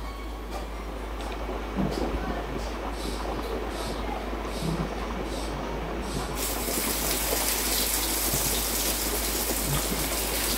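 Sole saltfish frying in hot coconut oil in Kerala style makes a dense, continuous sizzle that grows brighter and louder partway through, with a faint low hum underneath.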